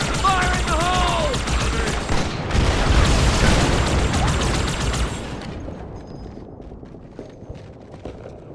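A grenade blast in Halo 2 gameplay, a heavy booming rumble with crackling debris amid gunfire, loud and close, then fading into scattered shots.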